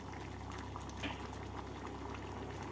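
Masoor dal simmering in a pot to cook off excess water, a soft, steady bubbling and popping heard close but faint, continuous throughout with no talk.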